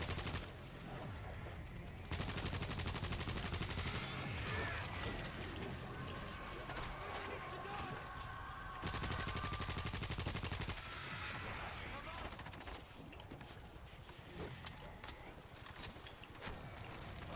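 Rapid gunfire rattles through World War Z Aftermath, sustained automatic bursts and shots stacked densely over a continuous game backdrop, with brief pauses between heavy volleys.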